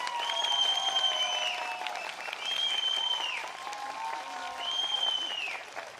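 A large political rally crowd applauds and cheers in rolling waves, with loud shouts and whistles rising over the continuous clapping.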